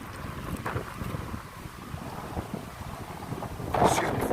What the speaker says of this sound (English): oh, it's windy as hell.